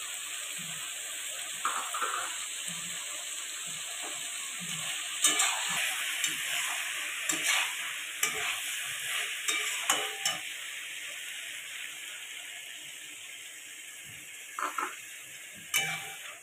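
Fried dried fish being stirred into a sizzling spice masala with potato: a soft steady hiss with scattered clicks and scrapes of a spoon against the pot, close but fairly quiet, and no talking.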